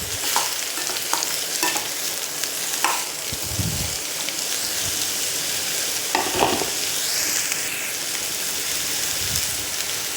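Ridge gourd and onion sauté in a pan, giving a loud, dense, continuous sizzle with occasional stirring scrapes and clunks, heard up close with no talking.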